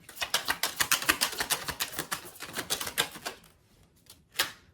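Tarot cards are shuffled close up in a rapid run of crisp riffling flicks, then a pause and one final snap.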